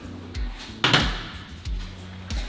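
The door of the world's largest off-road wrecker truck shuts with one solid slam mid-clip, surrounded by softer thumps and clunks nearby.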